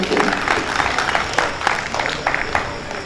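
An audience at a Chhattisgarhi poetry recital claps in a dense, steady burst of applause that lasts the whole short stretch, with no voice over it.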